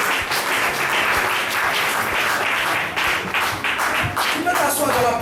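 A church congregation at a Sunday service applauds, dense sustained clapping from many hands filling the room for several seconds, with voices mixed in under the applause.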